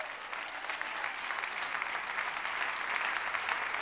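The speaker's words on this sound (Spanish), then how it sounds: "Un aplauso, alabanza al Señor" Church congregation clapping in praise during a Spanish-language sermon, a sustained, even roll of many hands that swells slightly toward the end.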